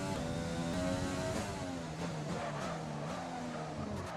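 A Formula 1 race car in the F1 2020 game brakes hard, its engine tone dropping steadily while the tyres skid and squeal, loud and continuous with no talking.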